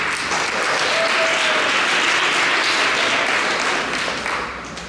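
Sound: audience applause

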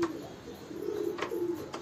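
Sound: roller pigeons cooing

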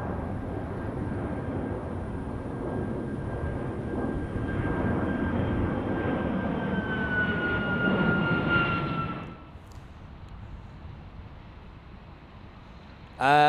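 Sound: Boeing test aircraft jet engines during departure

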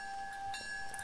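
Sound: train sound from a video game build

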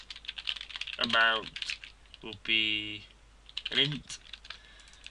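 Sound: typing code on a computer keyboard

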